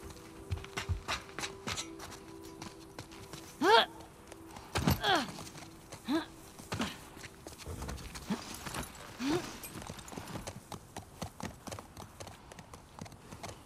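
Horse hooves from The Last of Us Part 2 clip-clop at a walking pace in an uneven rhythm, moderately close, with scattered other game noises around them.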